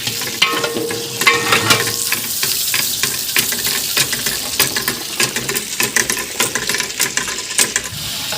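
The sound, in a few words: chicken being added to browning onions in a large pot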